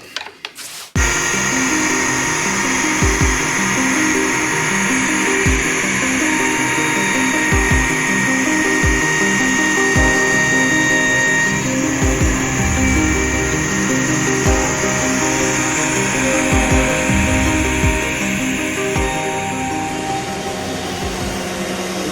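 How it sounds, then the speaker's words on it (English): A loud, steady CNC machine whine with a high-pitched cutting tone as it cuts a wooden cutting board, running continuously after a brief start, with faint intermittent knocks underneath. "Sanding and CNCing."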